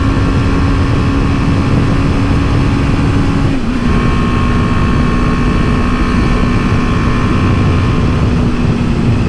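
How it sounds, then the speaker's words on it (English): A BMW G310GS, a 34-horsepower single-cylinder motorcycle, carries a steady loud engine drone while riding on a road, the note holding nearly constant with a brief dip mid-way, wind rush filling the background. "It's surprising how much fun you can have on a bike that's only got 34 horsepower."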